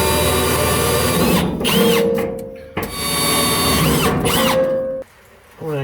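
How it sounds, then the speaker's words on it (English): A power drill bores holes in the tailgate of an LS 5.3-swapped Datsun. The loud, close, whining motor runs in two long bursts with a brief dip between them, then cuts off. "Let's get this thing drilled out."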